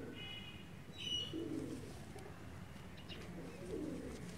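Soft, low Sialkoti pigeon coos recur a few times over a steady hiss of background noise, with a faint higher chirp early on.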